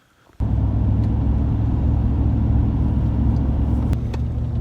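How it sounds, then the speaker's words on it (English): A car drives through Carlsbad Caverns National Park, its interior road rumble kicking in abruptly and then holding as a steady, loud low drone with faint clicks on top and no talking. "we're driving through the park right now, heading to the visitor center"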